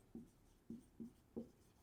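Pen strokes writing a math solution by hand on paper, four short scratchy marks in an uneven rhythm, close and quiet, with no talk.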